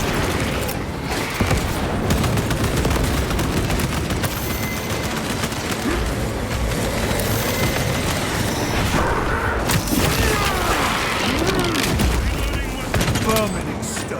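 In the Warhammer 40K game Space Marine 2, a frag grenade explosion mixes with constant loud gunfire and heavy booms, forming a dense, unbroken battle din throughout.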